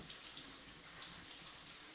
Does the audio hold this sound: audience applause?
no